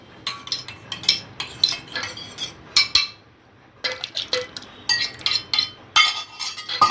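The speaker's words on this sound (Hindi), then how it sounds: "अब ये दही के अंदर डाल रही हूँ सब्ज़ी को" A utensil clinks and scrapes against a bowl while cooked potato curry is stirred into curd, giving a quick run of close metallic taps with a short pause midway.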